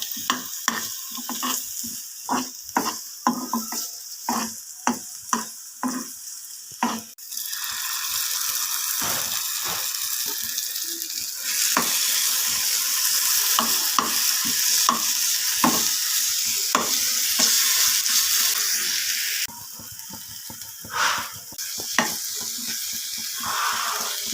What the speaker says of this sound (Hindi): बस हल्का हल्का इसको सोटे करना है इसको।